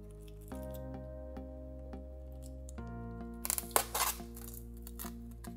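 Tape being peeled off a container of Turkestan roaches: a few short close rips and crackles partway through, set over a steady low electrical hum.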